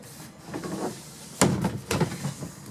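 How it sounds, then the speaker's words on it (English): A sliding door on a 2006 Swift Ace Supreme Globestar caravan rolls along its track, a sharp knock followed by a couple of sliding, rattling pushes, close and moderately loud against a soft room background. "And slide the door."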